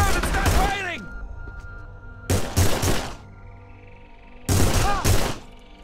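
Bursts of gunfire from The Punisher video game come in three loud volleys of rapid shots, each lasting under a second. Between them a voice speaks in short bits, and a faint hum sits underneath.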